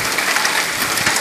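Hailstones about 1 to 1.5 cm across pelting down during an evening thunderstorm in Leipzig, a dense, steady hiss of rattling impacts lasting throughout, close and fairly loud with no talk.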